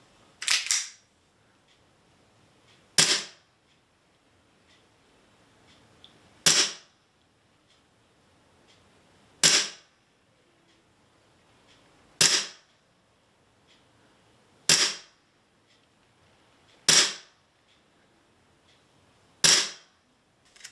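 An airsoft Glock pistol fires over a ballistic chronograph: eight sharp, loud single cracks spaced a few seconds apart, each followed by a brief tail, with near silence between shots.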